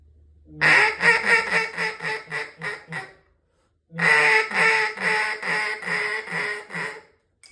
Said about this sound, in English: But here is call number 2, the comeback call.